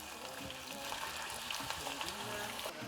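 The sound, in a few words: potatoes frying in oil in a pot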